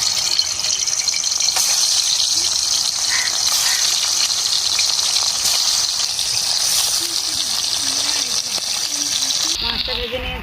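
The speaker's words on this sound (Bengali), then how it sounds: "মাছগুলো ভেজে নেব।" Fish frying in hot oil in a kadai, giving a loud, steady sizzle and crackle that stays close and continuous, with small spatters and a few faint clinks.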